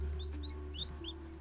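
Chickens clucking in the farming video game Dinkum, several short bright chirpy clucks scattered over a steady low hum of game music, fairly close and clear.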